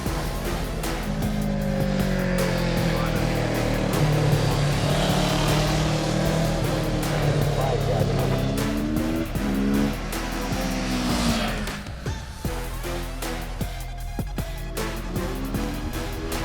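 A 2020 Kawasaki Z650 motorcycle on roads around Catalonia gives a loud, continuous engine drone close to the microphone, with the pitch climbing and dropping through gear changes and buffeting wind noise.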